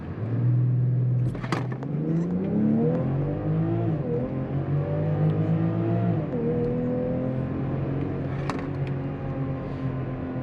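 A 2022 BMW X5 xDrive40i SUV accelerates hard, its engine note climbing through the gears with rising and dipping pitch sweeps, loud and steady with no talking over it.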